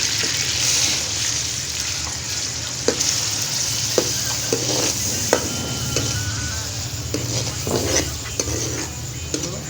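Onions frying in ghee in a kadai make a steady, close sizzle, broken by sharp scrapes and taps of a spoon stirring against the metal pan.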